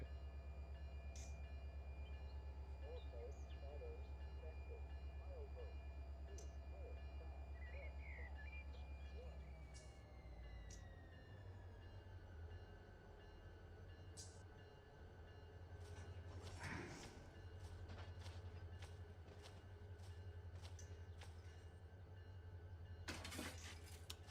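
A diesel freight train in the Run8 simulator rumbles steadily at low volume. The engine hum shifts pitch partway through, with rail clanks and squeals later and faint bird chirps in the background.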